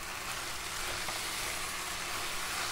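Aloo lachha halwa, a shredded potato pudding with saffron, sizzles steadily in a hot pan as it is stirred, a dense continuous hiss without pauses.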